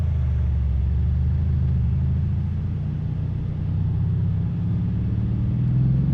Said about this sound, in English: Already you can hear the V8 rumble.